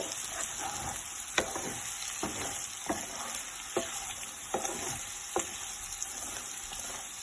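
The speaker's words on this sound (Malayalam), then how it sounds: "ഇനി നമുക്കൊന്ന് ഇളക്കി കൊടുക്കാം" Pork masala for a dry roast fries in a pan under a constant close sizzle, while a spoon stirs it with repeated scraping knocks roughly every second.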